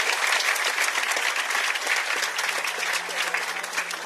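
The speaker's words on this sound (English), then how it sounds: "Ladies and gentlemen, can you please clap for the Minister of Health?" An audience at a formal event with ministers and a High Commissioner applauds the Minister of Health, a dense, steady wash of many hands clapping that holds loud and even throughout.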